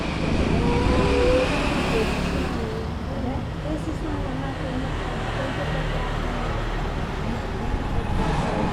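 Road traffic on a busy street, with cars and buses passing in a steady wash of engine and tyre noise, a voice speaking over it at times.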